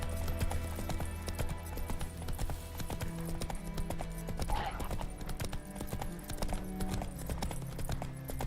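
Hooves of Roach, Geralt's horse in The Witcher 3: Wild Hunt, clip-clopping in a steady rhythm across open ground, close and continuous with faint ambient game sounds beneath.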